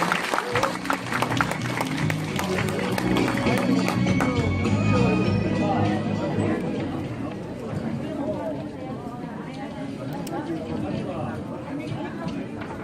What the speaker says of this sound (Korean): 여러분 큰 박수로 모시겠습니다